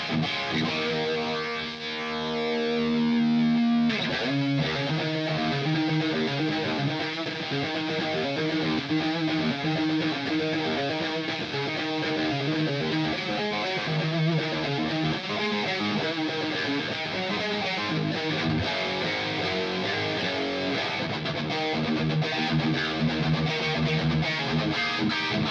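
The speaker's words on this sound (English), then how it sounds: "It's like all the distortion." Electric guitar played through an ADA MP-1 preamp with heavy distortion, a sustained chord followed by continuous driven riffing, up close and alone with no talk.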